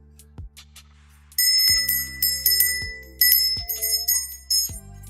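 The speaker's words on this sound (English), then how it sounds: "There is a brass bell." A brass bell struck repeatedly by hand, bright metallic rings with long shimmering decay, several strikes spaced irregularly, close and clear with no talking.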